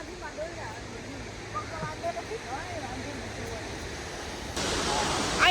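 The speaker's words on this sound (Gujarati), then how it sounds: "પાણીનો જેટલો અવાજ છે" A waterfall in Canada gives a steady, loud rushing roar throughout, with people talking over it, and the roar grows noticeably louder near the end.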